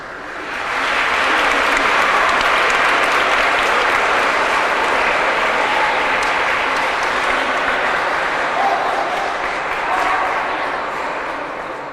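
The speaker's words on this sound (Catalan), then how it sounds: "Com ja he aconseguit que m'aplaudiu" A large audience at a library event breaks into applause for a speaker from the Valencian Language Academy, building quickly to a loud, sustained roar of clapping that holds for around ten seconds.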